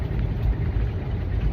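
Steady low road rumble inside a truck cab driving through North Carolina, a continuous dense drone with no talk.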